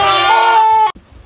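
A young lamb on a Turkish shepherd's farm gives one loud, close, wavering bleat that cuts off abruptly, followed by faint background noise.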